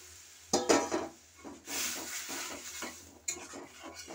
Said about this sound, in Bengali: আমি এবার এই ডালটা সেদ্ধ করে রাখা এই ডাঁটা আর ডালটা এর মধ্যে ঢেলে দিচ্ছি